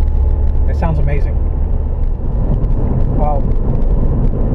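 A Ford Fiesta ST engine with a sound symposer hums as a low, continuous rumble under someone talking.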